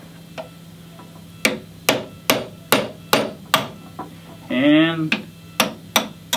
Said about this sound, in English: So we're going to use a 3/32 punch and a small hammer,